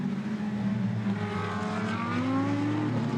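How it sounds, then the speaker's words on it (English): Turbocharged GT race cars, among them a Ferrari 488, in a Blancpain GT Sports Club race at Barcelona: a steady droning engine roar with fluttering, rising and falling wastegate chatter, heard from a distance as the cars run in traffic. "Great wastegate chatter from some of these turbocharged cars"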